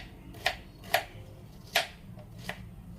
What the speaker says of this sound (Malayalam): ഈ സവാള നമുക്ക് അല്പം കട്ടിയായിട്ട് നമുക്കൊന്ന് കട്ട് ചെയ്തെടുക്കാം